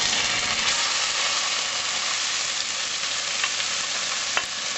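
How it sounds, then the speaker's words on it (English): Liver, onion and celery sauté in olive oil in a pan, giving a continuous loud sizzle with a faint scrape or two of stirring near the end. "we're going to saute the liver with the onion and the celery until done"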